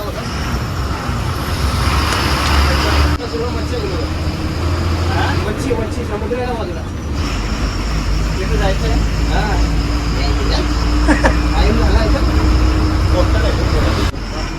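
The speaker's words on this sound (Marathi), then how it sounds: "बस ऑन टाइम सकाळी नऊ वाजता रवाना झाली" State transport bus setting off on the Goa highway, National Highway 66, its engine droning steadily with road noise and traffic around it, while people talk throughout.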